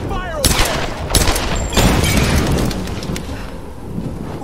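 Dense, loud bursts of gunfire from the Tomb Raider video game, with repeated shots crowding together into a continuous barrage, while voices speak over the shooting.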